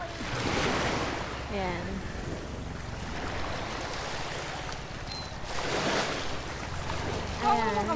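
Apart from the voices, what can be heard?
sea waves at a beach cove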